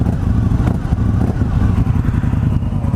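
Indian motorcycle engine idling nearby with a deep, steady, throbbing rumble and slight mechanical clatter, loud and continuous throughout.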